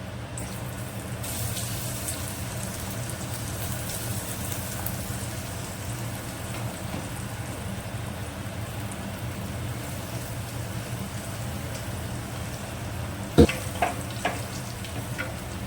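Ground paste sautés with popped mustard seeds in hot oil for mudakathan keerai rasam, giving a steady close sizzle that runs throughout, with a few sharp utensil clatters near the end and no talking.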